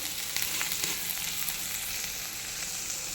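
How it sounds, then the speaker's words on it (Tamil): Onion and green chili sizzle in oil in a pan, making a dense, even hiss that stays close and steady, with a few faint clicks and no voices. "வெங்காயத்தை நல்லா வதக்கணும்"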